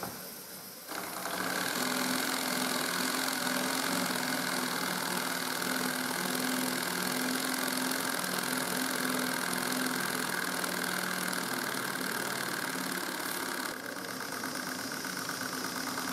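A tiny steam engine in a small Hielscher steam plant runs steadily, a continuous hissing, whirring hum with a faint rhythmic pulse that starts abruptly, holds even for over ten seconds, then eases slightly.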